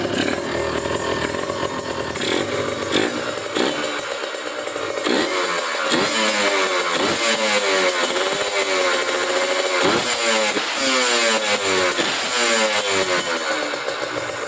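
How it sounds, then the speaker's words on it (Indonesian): A Kawasaki Ninja RR two-stroke motorcycle engine is kick-started and sputters into a loud, raspy idle with revving pulses, running steadily throughout. "Oke, sekarang tinggal diengkol. Baru ngidupin biasa"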